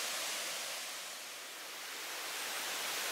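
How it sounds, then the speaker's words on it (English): A small woodland waterfall cascades steadily on a Herefordshire hike, a soft, even hiss of falling water that swells slightly and stays continuous, with no voices. "a nice little waterfall."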